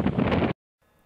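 Strong outdoor wind buffets the microphone in a loud, broadband roar while a tent is pitched, cutting off abruptly after about half a second before faint ambient noise returns.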